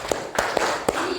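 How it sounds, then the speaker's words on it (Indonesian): Hands clapping in a classroom clap game, four sharp, evenly spaced claps in just over a second, fairly close, with faint room murmur behind them. "kita bermain tepuk"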